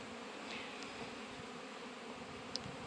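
Honeybees buzz steadily around polystyrene hive nucs, a low continuous hum close by with a few brief sharper passes of individual bees, with no talking.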